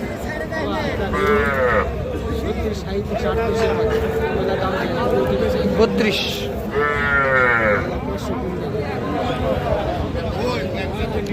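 A calf and other young cattle moo several times amid a busy livestock market selling small bull calves and heifers, with people bargaining and talking loudly throughout.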